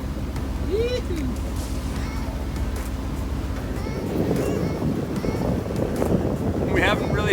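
Wind picks up while sailing past Point Grey, Vancouver, a steady rushing roar on the microphone that swells louder about halfway through, with water noise beneath and faint bird calls.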